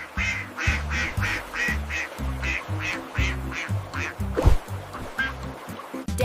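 A cartoon duck quacks in a steady rhythmic series, about a dozen bright quacks in time with the thumping beat of an upbeat children's song.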